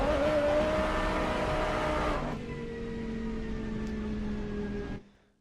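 Race cars at Indianapolis crossing the line in a wet, spray-filled KTM series race: a sustained, loud engine drone with a steady pitch that shifts lower midway, then fades out abruptly near the end.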